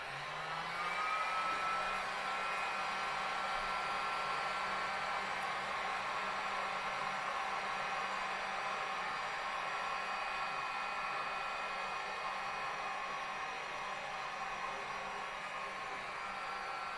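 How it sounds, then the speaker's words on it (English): A heat gun blows hot air onto decals on the boom of a Crypton Motorscope 335 under repair, a steady loud fan whine and rush that holds constant throughout. "We're going to have to get the heat gun now and get those off."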